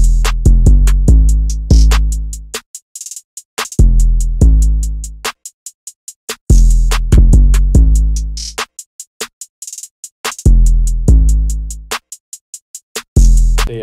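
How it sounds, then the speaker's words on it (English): Booming 808 bass in an FL Studio trap beat, heavy low notes hitting in rhythmic phrases with sharp attacks and decaying tails, punctuated by short silent gaps and stuttered repeated hits, loud and unaccompanied by talk. "And it just leads into this 808 right here."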